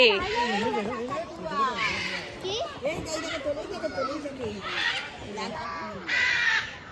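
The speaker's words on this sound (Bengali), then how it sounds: "পাখিগুলো আবার কি সুন্দর ডাকছে" Crows caw repeatedly around a zoo amid a lively crowd, their harsh calls mixing with children's chatter and voices close by.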